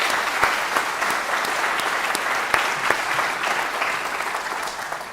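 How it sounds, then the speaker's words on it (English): Steady, dense applause fills a violin master class hall after a student's performance, many hands clapping at once in a loud, continuous wash with a few sharper claps popping out. "So give it another round of applause,"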